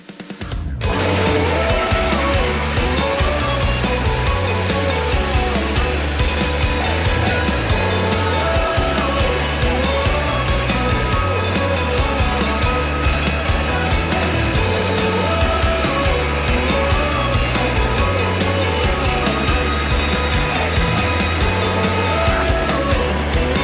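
A sawmill blade cuts a log into a beam, a loud, continuous grinding whine that runs without a break from start to finish.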